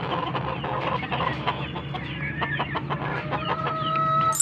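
Chicks in a backyard peep and cluck close by, their calls repeating over a busy, continuous bed of farmyard bird sound.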